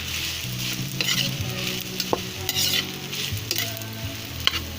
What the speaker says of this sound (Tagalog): lagyan ko siya ulit ng sauce. So, haluin natin.